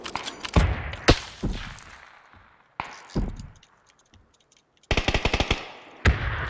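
Gunshots in a shooter video game: single sharp cracks early, then a quick rapid burst of automatic fire and a final shot, crisp and fairly close against near silence.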